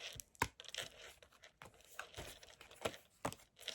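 Oracle cards are shuffled by hand in short, uneven bursts of papery riffling and flapping, close to the microphone with no talking.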